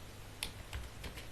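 A computer keyboard is typed on while a school flyer is made in PowerPoint: a few soft, scattered key taps over about a second, faint against a low room hum.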